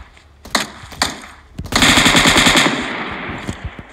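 Bursts of automatic gunfire in the PUBG Mobile battle-royale game: two short shots, then a loud sustained volley of rapid rounds lasting about a second, followed by a few scattered distant shots.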